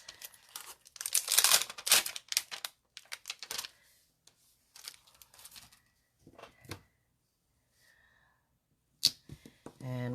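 Rubber stamps being picked up and handled while making a bug greeting card, with crinkly rustling and light plastic clacks in irregular bursts, a few sharp taps, and quiet gaps between handling sounds.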